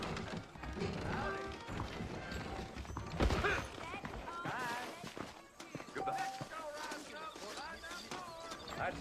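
Horse hooves clip-clop in the Western video game Red Dead Redemption, a scattered run of hoof falls mixed into a busy scene with voices talking over them.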